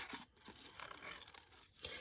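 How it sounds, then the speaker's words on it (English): Scissors cutting a paper bust out of ephemera produce close, crisp snipping and rustling paper crinkles over about two seconds. "Let's cut this bust out."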